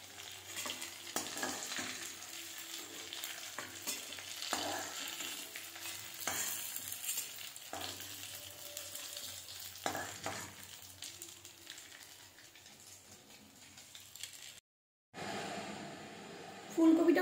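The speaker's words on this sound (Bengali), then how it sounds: "হয়ে গেছে ফুলকপিগুলো ভাজা" Cauliflower florets for chili gobi frying in hot oil, a steady close sizzle with scraping stirs through most of the stretch, then a brief silent break before louder kitchen noise returns.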